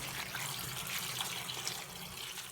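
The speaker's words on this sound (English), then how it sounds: "I'm adding in some cold water." Cold tap water is poured over cooked pasta for a pasta salad, giving a steady hissing splash and trickle at moderate loudness throughout, with no talk over it.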